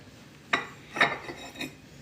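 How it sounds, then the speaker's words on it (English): Ladle scooping French onion soup with meatballs and caramelized onions from a pot, three soft close clinks of metal against the pot over a quiet background. "we're gonna ladle off our soup"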